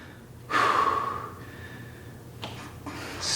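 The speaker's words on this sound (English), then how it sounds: "We're going to take 5 breaths here as a resting pose" Deep, slow breath drawn in and let out during a resting pose in a yoga practice, one long audible inhale-exhale heard close and alone, followed by a shorter breath.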